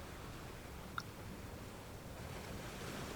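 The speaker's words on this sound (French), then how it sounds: "et les vagues que tu observes et que tu entends" Ocean surf rolls in a steady, soft wash with a gentle wind hiss, calm and continuous, with one faint tonal blip partway through and no talking.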